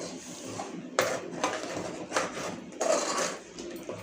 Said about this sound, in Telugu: అడుగు మాడకుండా మంచిగా ఒక 2 నిమిషాలు ఇలా మంచిగా కలిపేసుకోండి